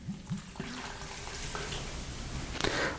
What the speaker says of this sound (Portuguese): 1 bom copo de água